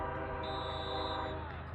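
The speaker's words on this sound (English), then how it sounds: "Take a listen to that, train whistle in the backfield" Train horn sounding at a 9-man high school football game in North Dakota, a steady sustained tone heard from a distance over continuous crowd and field background noise.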